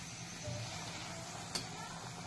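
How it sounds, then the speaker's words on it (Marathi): Puris deep fry in hot oil, a faint, even sizzle that holds steady, broken by a single small crackle midway. "आता आपण एक एक करून सगळ्या पुऱ्या तळून घेऊयात।"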